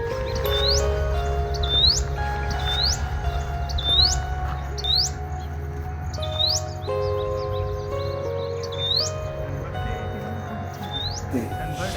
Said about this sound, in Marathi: हा कुठला पक्षी?